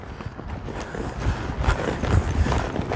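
Belgian draft horse hooves walking, a soft irregular clip-clop of heavy footfalls at moderate distance over steady background noise.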